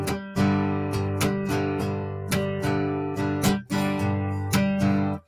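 Percussive acoustic guitar strumming drives a steady rhythm, with a light slapped backbeat ringing through the chords. It is loud and close, with no voice.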